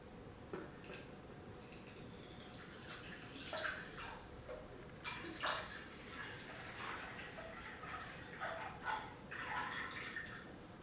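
Borated water poured into a measuring cup, giving a faint, soft trickle and splash with small drips that rise and fall over several seconds, with no talking.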